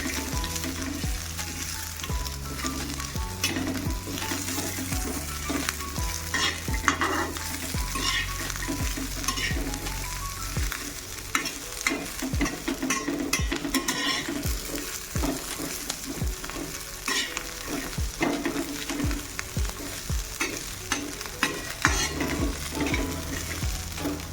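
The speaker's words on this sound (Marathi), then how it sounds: "लसूण त्याच्यामध्ये टाकायचं मिरच्या त्याच्यामध्ये टाकायचं शेंगदाणे आणि बस थोडं परतून घ्यायचं" Garlic, green chillies and peanuts sautéed in a pan, a continuous sizzle with busy rattling and scraping of a spatula stirring throughout, close up.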